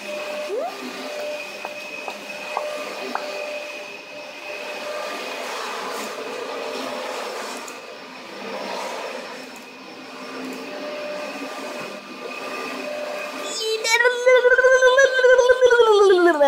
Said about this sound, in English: I'm sorry if you can't hear me, but my mom is vacuuming